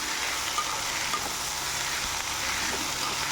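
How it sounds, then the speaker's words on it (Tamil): Chopped cluster beans and tomato sauté in hot oil in a pan, giving a steady, even sizzle with faint stirring scrapes, close and moderately quiet, with no talking. "இது இப்போ நம்ம எண்ணெயிலே வதங்கிறதுனால சீக்கிரம் வதங்கிடும்"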